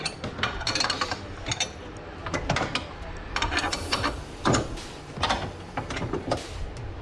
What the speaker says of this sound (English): You can see he's adjusting it right there by spinning that nut, and then that's helping it line up at the back.